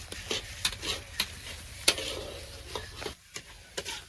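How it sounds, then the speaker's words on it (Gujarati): Coconut ladoo mixture is stirred in a kadhai, giving a run of scraping, tapping strokes at an uneven rhythm, close and moderately quiet, with no voices. "હવે આપણે સારી રીતે મિલાવી દઈશું."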